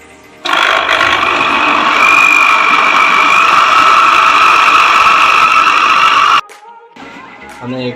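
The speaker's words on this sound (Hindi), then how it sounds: "अब हम प्याज जो है ये ग्राइंड कर लेंगे।" An electric grinder whirs loudly as it grinds boiled onions for kofta curry, starting abruptly and running for about six seconds in a steady, harsh roar before cutting off sharply into quiet kitchen noise.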